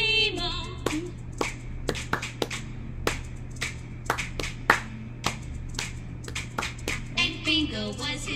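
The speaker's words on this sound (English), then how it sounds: "now five claps, no letters" Children clap during the Bingo song, a rhythmic run of sharp, distinct claps with sung voices at the start and end.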